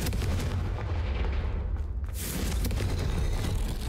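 A Confringo explosive spell from the Hogwarts Legacy video game bursts with a dense, booming blast, followed by a sharp crack and a rumbling roar that fills the whole span at steady loudness.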